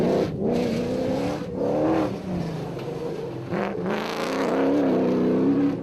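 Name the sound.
rally car racing past on dusty Magalies 400 route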